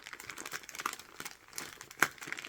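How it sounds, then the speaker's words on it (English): A peacock-print bag crinkles and rustles as it is carefully opened, with irregular soft crackles and a couple of sharper crinkles, close and fairly quiet with no talking. "I'm trying not to tear the bag."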